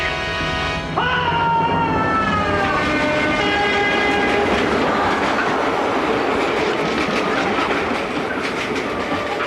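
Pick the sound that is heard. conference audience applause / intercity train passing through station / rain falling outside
intercity train passing through station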